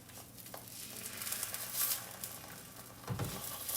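Beef dipped in sauce for birria de res sizzles in a hot pan, a soft, continuous crackle with occasional louder pops and spatters, heard up close with no talk over it.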